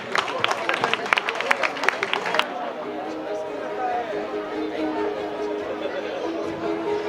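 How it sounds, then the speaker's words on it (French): Audience at a livestock breeders' show claps for about two and a half seconds in a dense burst, then the applause stops and crowd chatter and murmuring carry on in a large hall. "applaudissez les éleveurs s'il vous plaît pour leur travail"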